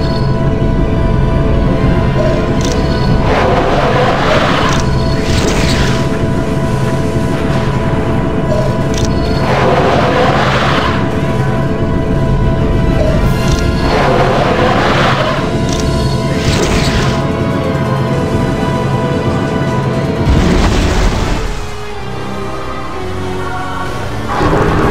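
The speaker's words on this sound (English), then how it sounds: "Galactus is preparing to unleash an energy blast. I will attempt to distract him and force it to detonate early." Galactus's energy blast detonates in Marvel Ultimate Alliance, a sustained roar of crashing booms and whooshing bursts layered over a dense, continuous soundtrack, with several heavy surges before the din briefly drops.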